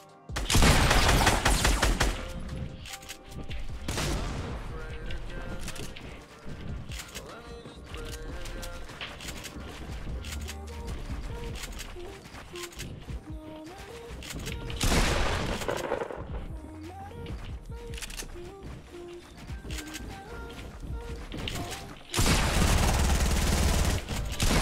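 Gunfire in a Fortnite Battle Royale match: loud bursts of rapid shots and single cracks recur throughout, with heavy volleys at the start, middle and end over background music and effects.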